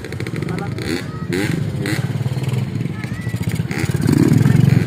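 A motocross motorcycle engine revs in bursts at an outdoor gathering, rising and falling roars mixed with crowd chatter and people talking nearby, growing louder toward the end.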